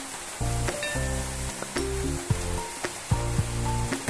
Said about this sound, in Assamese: আৰু এতিয়া মই ভাজি আছোঁ